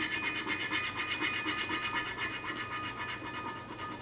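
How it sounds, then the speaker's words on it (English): A fingertip rubs vinyl transfer firmly onto a tumbler being customized for powder coating, giving a steady, close dry rasping scrape that continues without a break and without any voices. "Rub them down really good."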